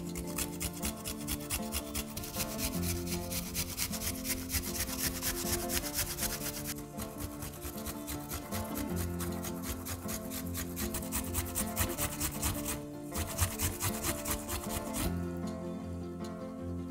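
Peel rubs against a grater in a steady, continuous rasping rhythm, close and even, for the whole stretch.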